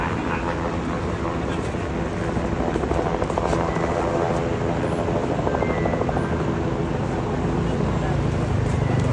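A rescue helicopter flies low over floodwater, its dense, steady rotor roar filling the whole stretch at close range and high loudness, with faint voices mixed beneath it.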